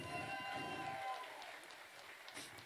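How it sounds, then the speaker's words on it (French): An audience at a local arts showcase gives a short burst of clapping as a performer is called onto the stage. The applause is brief and fades after about a second, with some murmuring continuing underneath. "On l'applaudit fort."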